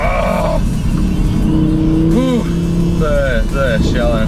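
An Audi R8 V10 sports car engine roars loudly and close. Its revs sweep up and down in sharp, rising and falling wails, and a voice talks over it.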